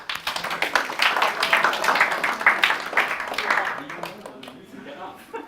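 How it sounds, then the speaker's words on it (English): An audience at a community EU referendum debate claps to welcome the debaters, a burst of scattered applause that swells over a few seconds and then thins out toward the end. "Let's welcome them with a big round of applause."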